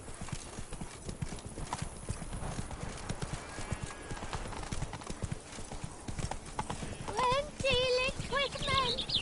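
Roach, a horse in a video game, gallops with quick rhythmic hoof clip-clops throughout, joined near the end by a loud whinny, with voices talking over the action.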